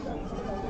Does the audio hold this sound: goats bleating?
yes